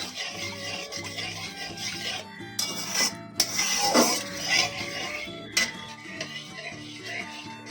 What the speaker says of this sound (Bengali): নারকেলের দুধটা দেওয়ার পর একটু ভালো করে মিশিয়ে নিতে হবে